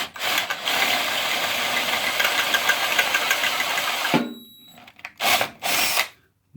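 A power drill bores holes for the switch wiring on a 1992 BMW R100R cafe racer motorcycle. It gives a loud sustained whine for about four seconds, then stops, and two short bursts follow.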